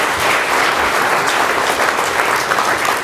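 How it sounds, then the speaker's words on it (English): Audience applause in a hall after a session, a dense, steady wash of clapping from many people that continues loudly without pause. "a round of applause for all of them"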